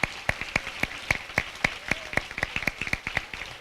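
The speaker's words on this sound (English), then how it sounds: "So I want us to give a special round of applause for Marvin Brown." A small group claps in scattered, sharp bursts, a modest round of applause with no voices, at a playground ribbon-cutting ceremony.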